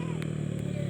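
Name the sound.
motorcycle passing on road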